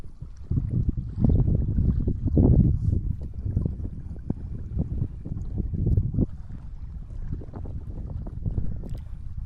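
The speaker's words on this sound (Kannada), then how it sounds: "ಗಾಳಿ ಭಾಳ ಇದೆ ಇಲ್ಲಿ." Strong wind at Sigandur Dam buffets the microphone in heavy, low rumbling gusts that surge and ease throughout, with no voices.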